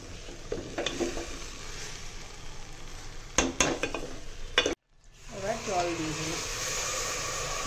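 Khichuri ingredients sizzle in a pan while a spoon stirs with loud metallic knocks, the frying broken by a brief pause before a voice speaks over the renewed hiss.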